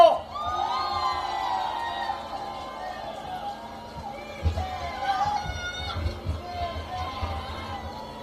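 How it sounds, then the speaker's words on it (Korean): A large outdoor crowd at a South Korean political campaign rally in Okcheon cheers and shouts, with a sustained roar of voices rising in louder bursts partway through. "큰 박수 한번 부탁드리겠습니다."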